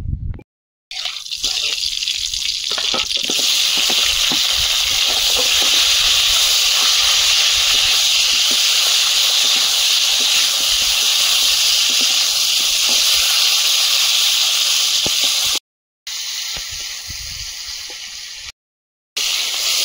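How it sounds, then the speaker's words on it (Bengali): Fish heads, the heads of hilsa, fry in hot oil in a kadai, giving a loud, steady sizzling hiss that runs almost unbroken, with two brief silent cuts near the end. "কড়াইতে তেল দিয়ে দেবো, মাথাগুলো একটু ভেজে নেব।"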